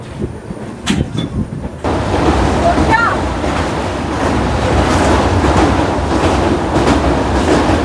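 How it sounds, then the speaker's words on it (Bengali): A passenger train pulling out of New Cooch Behar station after a two-minute halt, a steady loud rolling rumble with clattering wheels heard from on board, joined by a sudden surge of wind and track noise after a quieter opening. "2 মিনিট হল্ট দিয়ে ছেড়ে দিল নিউ কুচবিহার স্টেশন।"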